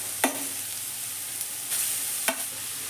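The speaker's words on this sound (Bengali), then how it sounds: "এবার গাজরটাকে আমি খুব ভালো করে ঘিয়ের সঙ্গে ভেজে নেব" Grated carrot frying in hot ghee in a wok over a lowered gas flame gives a soft, steady sizzle, with a couple of sharp stirring clinks from a spoon or spatula against the pan.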